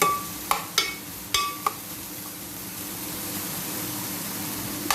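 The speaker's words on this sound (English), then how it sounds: "A little bit frying." Onions, garlic and ginger frying over low heat in a pan for spicy honey spare ribs, a soft steady sizzle after a few sharp clinks of a utensil against the pan at the start.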